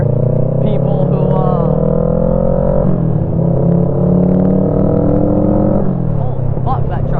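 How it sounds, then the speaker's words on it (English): A loud truck rumbles past close by on the road, heard over the steady engine drone of a Kawasaki Ninja 650 motorcycle as it shifts through gears, while a rider talks over the noise. "that truck's loud"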